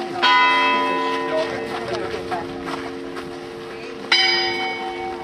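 Church bells ring at Iitti church in Finland, with sustained overlapping tolls carrying through the clip and a fresh loud strike near the end, over soft background movement.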